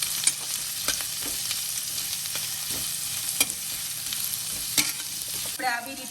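Mixed vegetables for Schezwan rice sauté in a hot pan, giving a steady loud sizzle with frequent sharp scrapes and taps of the spoon against the pan.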